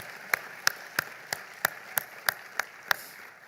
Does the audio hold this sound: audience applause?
yes